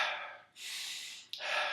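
A few deep, deliberate breaths taken close up with no one talking, a long airy inhale followed by a brief catch and another sustained breath, as in belly-breathing practice for runners.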